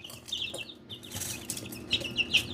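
Chicks cluck and cheep in short, scattered bursts close by, a few higher peeps standing out over faint background noise, with no speech.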